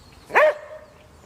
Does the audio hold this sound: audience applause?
no